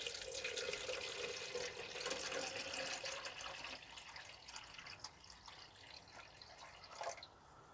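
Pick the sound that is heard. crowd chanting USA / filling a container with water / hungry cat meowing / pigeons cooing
filling a container with water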